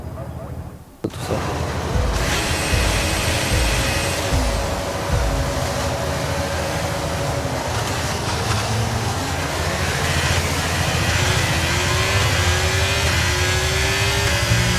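Race cars in the F1 23 video game roar off the line at the Silverstone start, a dense pack of high engines rising in pitch through the gears, loud and continuous with a brief pause before.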